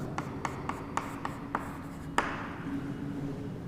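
Chalk or marker strokes on a classroom board: about seven short, evenly spaced taps and scratches, then a final firmer stroke, close and moderately loud against faint room noise.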